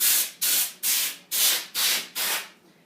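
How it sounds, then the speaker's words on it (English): Compressed air is sprayed into a computer case to blow out dust, six sharp hissing bursts in a steady rhythm, each about a third of a second long with short gaps between, close and fairly loud. "Come back to the front and spray in to remove all the dust."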